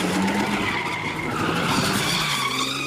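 Cars skid with sustained squealing tires at an Oakland street sideshow, a continuous loud screech with engine roar underneath and no talking.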